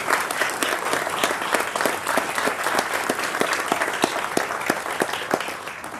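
An audience at a town hall applauds award recipients with sustained clapping, individual sharp claps standing out near the front over a steady wash that fades slightly toward the end.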